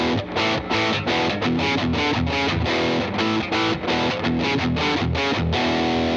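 Heavily distorted electric guitar with added boost, on the bridge pickup through an amp with reverb and delay, pounds out a fast, driving riff of saturated power chords, loud and unbroken, with no voices.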